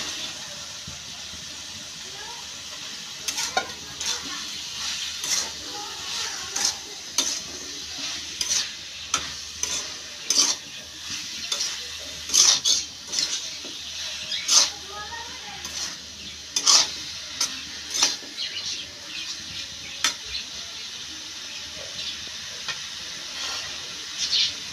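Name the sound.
eggplant and potato sautéing with spices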